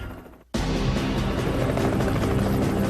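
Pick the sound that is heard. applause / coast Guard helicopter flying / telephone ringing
coast Guard helicopter flying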